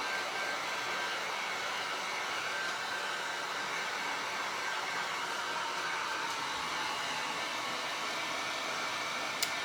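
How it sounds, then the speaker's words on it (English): A Wagner heat tool blows very hot air in a continuous, even, loud rush, with no break and no talking. "heat tool. This one gets really hot, this Wagner."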